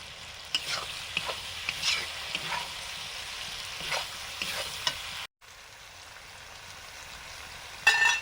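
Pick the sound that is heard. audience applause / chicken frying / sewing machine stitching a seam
chicken frying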